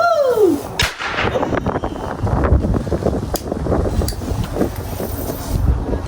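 Firecrackers and fireworks set off outdoors on Lunar New Year's Eve, Year of the Dragon: a falling whistle opens, then loud cracks and booms burst against steady wind rumble across the whole stretch.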